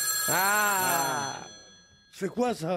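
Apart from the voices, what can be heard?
mobile phone ringing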